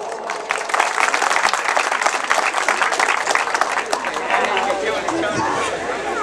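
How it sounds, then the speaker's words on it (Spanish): Crowd applauding at a village festival in Caserío Los Díaz, Palestina de Los Altos, during a paving inauguration ceremony; steady, dense clapping from a large outdoor gathering, with voices and chatter mixed in throughout. "Recibámoslos con fuertes aplausos, por favor"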